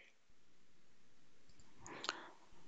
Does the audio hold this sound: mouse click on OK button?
yes